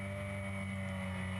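Mini 7 race car engine held at steady high revs on the grid at a race start, a constant droning hum with strong harmonic tones, fairly close and heard alone.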